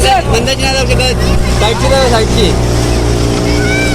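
Several small fishing boats racing through mangroves in Konkan during a boat race, their motors droning loudly and continuously close by, with people talking over the engine noise throughout.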